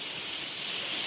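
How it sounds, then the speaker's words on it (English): Steady, dense hiss of heavy rain pouring down, a continuous wash of noise with no voices. "sorry about the rain, it's really come down."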